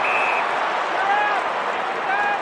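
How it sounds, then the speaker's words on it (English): Crowd noise swells at an Australian football match between Richmond and Hawthorn, a dense steady roar and cheering filling the stadium under whistle-like tones, with commentary over the top. "Crowd starting to get involved."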